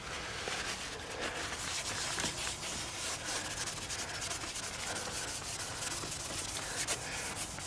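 A car headlight is rubbed vigorously by hand to wipe off excess polish. The close, continuous scrubbing has a brisk, uneven rhythm and runs throughout with no talking.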